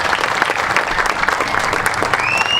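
Steady, dense applause from an audience at an employee appreciation party, sustained and fairly loud throughout with no talk over it.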